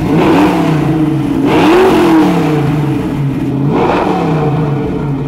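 American car at an outdoor US car meeting revving its engine, a loud, close, throaty exhaust note rising and falling in two swells with a steady idle rumble between.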